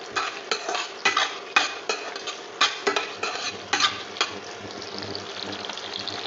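Chopped capsicum, tomato, onion, garlic, ginger and whole shallots fry in a pan for a prawn bhuna, with a spatula scraping and stirring in a run of sharp, regular strokes over a steady close sizzle.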